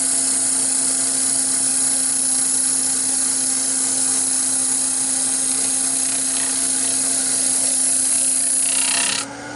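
A machine shaving an Edison phonograph cylinder blank gives a continuous, steady high whirring hum with a scraping edge, loud and unbroken until it stops abruptly near the end.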